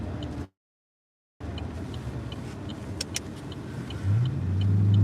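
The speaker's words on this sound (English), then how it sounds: "Y'all hear him rev his engine when he went by me." A car drives past outdoors, its engine swelling into a rev toward the end after a brief dropout, with steady road noise throughout.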